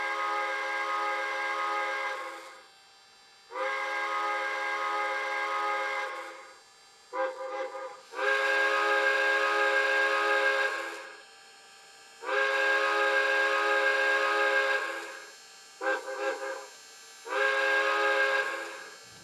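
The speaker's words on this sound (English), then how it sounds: "Blow the whistle, and the result is awesome." An MTH model Pennsylvania T-1 Duplex 4-4-4-4 steam locomotive whistle blows repeatedly in long, steady chime-like blasts separated by short pauses and a couple of quick toots, loud and close.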